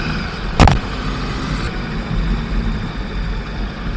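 Steady low road rumble of a car being driven on a main road between Murudeshwar and Jog Falls, India, with a brief loud clunk near the start and no talking.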